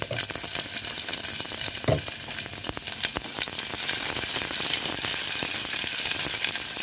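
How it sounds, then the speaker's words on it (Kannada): Mustard seeds and slit garlic crackle and splutter in hot oil for a tempering in a home kitchen, a steady sizzle broken by sharp popping bursts, close and continuous with no talking. "ಸಾಸಿವೆ ಸಿಡಿತಾ ಇದೆ"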